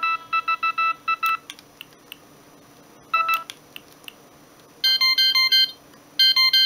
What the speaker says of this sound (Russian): T-Mobile-овский рингтон SMS.